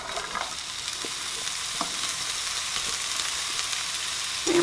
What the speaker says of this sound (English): So we're heating up our 1 teaspoon of oil. And then we're going to add our bok choy.